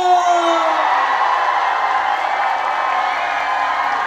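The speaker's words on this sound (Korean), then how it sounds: "박수와 함성!" A festival crowd at the 29th Bonghwa Songi (pine mushroom) Festival roars with sustained cheering, whoops and applause, loud and dense throughout, opening with a brief voice on top before the wall of crowd noise takes over.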